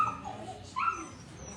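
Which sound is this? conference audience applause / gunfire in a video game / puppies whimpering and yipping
puppies whimpering and yipping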